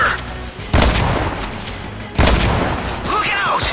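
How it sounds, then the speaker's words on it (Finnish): Shotgun and pistol fire in the online shooter Renegade X during a tournament match: two loud booming shots about a second and a half apart, each followed by a long rumbling decay, with faint game sounds around them. "Haulikkomies yrittää ampua ja siinä oli ilmeisesti ammukset loppu, koska pistoolia käytettiin."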